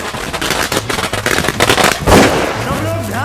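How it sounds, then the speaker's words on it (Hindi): Firecrackers bursting in a crowded street celebration, a dense run of sharp cracks and pops layered with shouting voices and a loud blast near the middle. "अपने बच्चों को पटाखों से दूर रखिए।"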